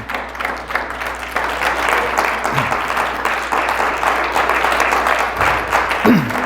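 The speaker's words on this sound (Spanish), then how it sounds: "dándole al Señor un fuerte aplauso" A church congregation bursts into steady, dense applause that fills the room for several seconds, with faint voices mixed into the clapping.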